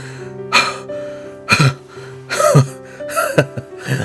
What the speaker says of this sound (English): For a moment, we both just gasp for breath in the shallows